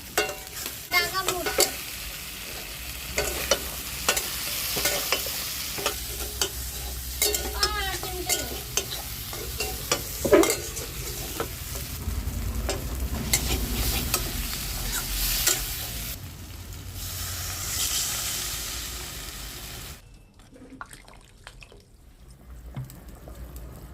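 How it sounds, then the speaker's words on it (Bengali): Potatoes stirred into fried spice masala in a pan on a rooftop cook, a spatula scraping and clacking in irregular strokes over a steady close sizzle, ending in near silence. "আলুগুলোকেও মশলার সাথে একটু নাড়িয়ে নেওয়া হবে"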